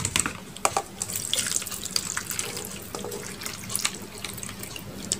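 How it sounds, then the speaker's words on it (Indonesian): Hot water is poured off freshly cooked noodles through a strainer into a sink, giving a continuous splashing, gurgling rush with scattered drips, close and steady with no voices. "Kita saring. Kita buang airnya sini ya."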